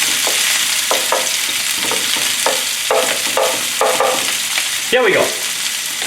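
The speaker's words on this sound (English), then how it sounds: "Vegetables cooking." Cabbage, green onion, wood ear and shiitake mushrooms, and bamboo shoots stir-fry for moo shu chicken, a steady sizzle broken by repeated spatula scrapes and clacks, with a brief spoken phrase near the end.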